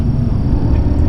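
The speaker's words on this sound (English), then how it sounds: "If you're wondering what that noise is as well, that is just the aircon." Inside a classic Porsche 964 Carrera 2, the air conditioning makes a constant low, loud droning hum that fills the cabin, with no speech over it.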